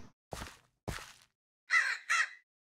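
Crows caw in a Minecraft mod: a few isolated, harsh calls spaced apart, with the final two caws coming close together, clear and fairly loud against silence.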